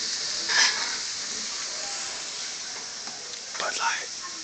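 Baby bella mini portabella mushrooms searing in a hot pan give a steady, soft sizzling hiss throughout, with brief louder crackles near the start and end.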